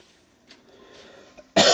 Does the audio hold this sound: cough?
yes